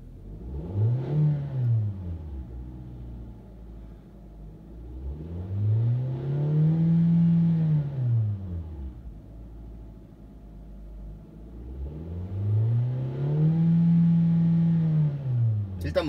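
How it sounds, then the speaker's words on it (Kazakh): A 2018 Hyundai Sonata engine idles while parked and is revved three times, each rev a smooth rise and fall in pitch from a low hum, heard up close with faint background noise. "엔진 소음이나 떨림 이런 거를 내가 알아본다고"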